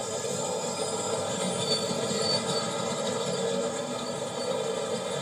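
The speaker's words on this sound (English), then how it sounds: "And the passenger trains, of course." A steady mechanical rumble with rattling and a high whine of a passenger train rolling past nearby, constant throughout with no voices.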